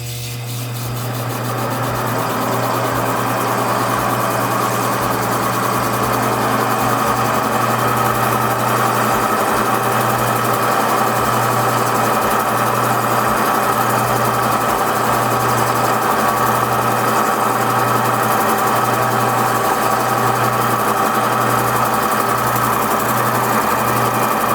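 Ametrine gemstone grinding on a 340 grit topper lap, a steady loud motorized whir with a constant low hum and faint scraping texture, running continuously and alone after a brief spin-up.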